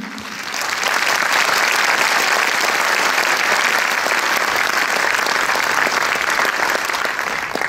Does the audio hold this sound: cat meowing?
no